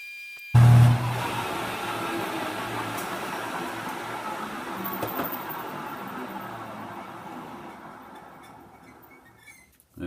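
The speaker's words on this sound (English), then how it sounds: "I could hear a little bit of chatter" A milling machine cuts metal at a slowed feed rate while coupling parts are machined, giving a steady rough grinding hiss with faint chattering texture that slowly fades, heard alone without talk.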